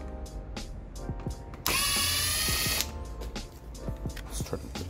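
A power driver loosens Torx 20 screws on a 2015 Jeep Compass headlight, giving one short, loud mechanical buzz between scattered small clicks and handling knocks.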